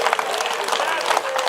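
An audience claps at a Hindi spiritual discourse: dense, steady applause that fills the whole stretch at a fairly loud level, with no clear break.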